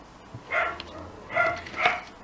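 Dogs barking nearby, three short bursts of barks spaced out with quieter pauses between, fairly faint and heard alone without talk.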